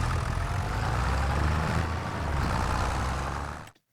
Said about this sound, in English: let's take the challenge tractor to the other field